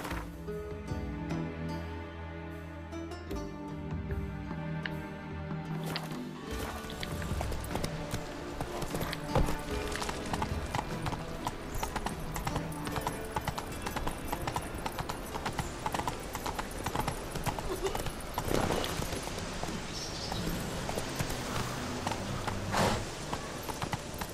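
Horse hooves clip-clop at a steady walking pace in The Witcher 3, mixed under game music and ambience, with a brief whinny-like tone near the start.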